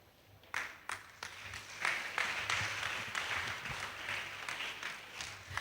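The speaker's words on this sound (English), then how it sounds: "Bigger rounds of applause." An audience at a media awards ceremony breaks into applause, starting with a few scattered claps that build into sustained clapping from a crowd.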